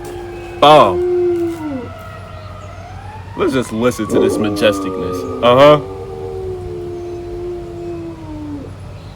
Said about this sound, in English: My dog is barking at the sirens.